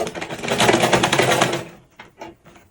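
A sewing machine runs a steady burst of top stitching through damask fabric while a body ruffles turban is made, its rapid mechanical rhythm loud and close for about a second and a half before stopping, followed by a few soft handling clicks.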